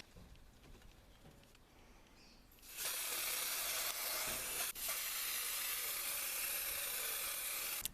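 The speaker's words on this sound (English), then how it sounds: "So I'm just going to go ahead and just spray the hutch with this." A steady, loud hiss of spraying onto a rabbit hutch starts a few seconds in and continues with a brief break, after a quieter stretch of faint rustling.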